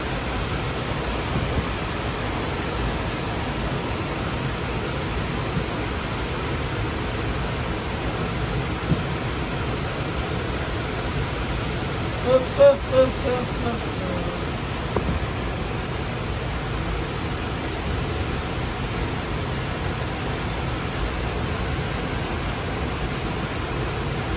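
Strong water current rushes steadily through a dam, a dense, unbroken roar that stays loud and even throughout, with a brief faint tap near the middle.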